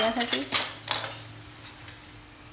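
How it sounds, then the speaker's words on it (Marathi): A metal spoon scrapes and clinks against a pan while mixing noodles, giving several quick close clatters at first and then softer scattered taps, with no voices. "त्यासाठी आपण हा चमचा घ्यायचा आणि छान मिक्स होतात"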